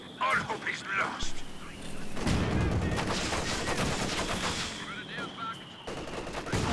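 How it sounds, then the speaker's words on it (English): Gunfire and explosive blasts, including a mortar shot, fill a WWII strategy video game battle. Loud bursts and cracks come in quick clusters over continuous rumbling, with excited commentators talking over the action. "did you just see that mortar shot?"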